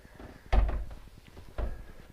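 A cabin door on a new 2021 Sunseeker 76 yacht opens and closes, giving two solid thuds about a second apart, close by and fairly loud, with quiet room tone between them and no talking.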